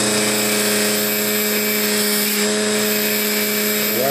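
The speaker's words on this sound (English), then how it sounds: "I'm going to take and try to polish this end a little bit" A power tool grinds and polishes the end of a wire reverse S hook, a loud, steady whine holding constant through the whole stretch, close and alone.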